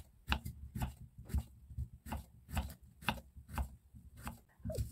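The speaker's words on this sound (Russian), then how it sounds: "Свежий огурец разрезаю пополам и нарезаю полукольцами." A knife slices a fresh cucumber into half-rings on a cutting board while a salad is prepared, giving about ten crisp, evenly spaced chops close up with no talk.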